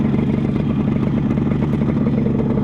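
A 1974 Yamaha RD 350 two-stroke engine idles fast and steady, a close, even buzzing clatter with no pauses and no talk.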